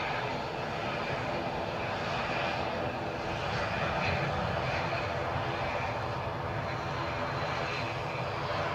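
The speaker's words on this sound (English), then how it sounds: "ATR you are gazing on, off to Belfast" An ATR turboprop airliner departing Edinburgh Airport for Belfast gives a steady, broad engine roar that holds at an even level throughout, heard from a distance with no talk over it.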